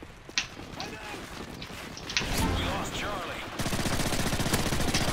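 Gunfire in an online shooter game, several sharp shots and bursts over a rumbling background, growing into a dense rapid rattle toward the end.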